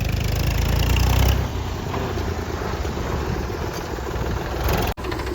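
A 275 tractor engine, new TU model, idles with a steady low rumble, louder at first then settling into a constant throb.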